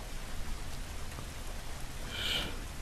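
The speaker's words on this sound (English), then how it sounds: "I mean, it's raining hard too." Heavy rain falls steadily in the video game The Last of Us Remastered, a dense constant hiss that swells slightly near the end, with no voices.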